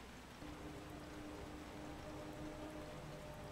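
Steady storm rain in a racing video game hisses continuously, a dense broadband wash with a low engine-like hum running underneath, no voices.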